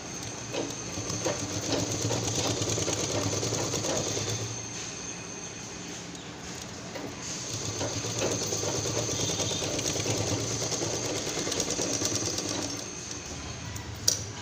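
A sewing machine stitches folded cloth for a small purse in a steady, continuous whirring run, dipping briefly midway before resuming, ending with a sharp click.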